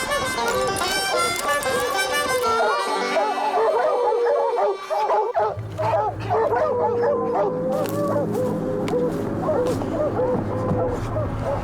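Hunting dogs barking and yipping excitedly in a steady chorus while chasing, fairly close, with a voice talking over the commotion.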